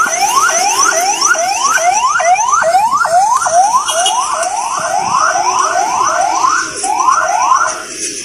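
A loud police siren wails close by, its rising sweeps repeating steadily about twice a second for several seconds, filling the scene with no voices over it.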